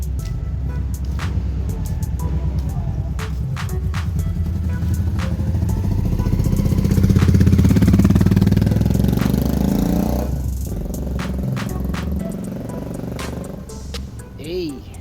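A Honda Steed 400 motorcycle engine runs with a steady low rumble that swells midway and then eases off, while people talk nearby.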